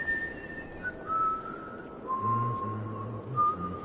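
Whistling in the game Dishonored, a thin sustained tune of a few drawn-out notes held over a low murmur of background noise, moderately faint.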